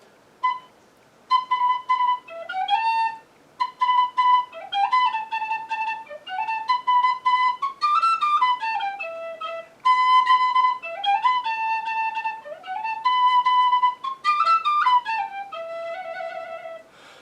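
Solo penny whistle playing a lively tune alone, with clear breathy high notes in quick runs, rising and falling phrases and short gaps between phrases, steady and moderately loud throughout.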